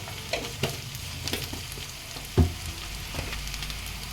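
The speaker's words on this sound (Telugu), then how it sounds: "మనకి ఉల్లిపాయ పేస్ట్ అయితే మంచిగా ఫ్రై అయిందండి." Onion paste with ginger garlic paste sizzles and fries in a pan for a fish curry, a steady close crackle broken by a few stirring scrapes and one louder clunk, with no voices.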